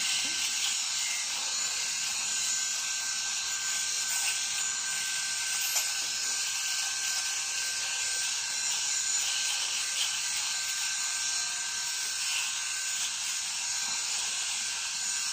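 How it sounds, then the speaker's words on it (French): Enchen Blackstone electric razor shaving a beard, a steady high-pitched motor whine with faint hissing, running continuously and fairly quiet, with no talking. "donc le Blackstone, donc ce rasoir électrique. Je vais faire ici, vous voyez, ici sur le bas de ma barbe"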